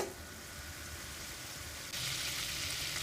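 Homemade cow milk butter simmers in a pan as its water cooks off into ghee, giving a soft, even hiss that steps up slightly louder partway through, with a low background rumble and no voices.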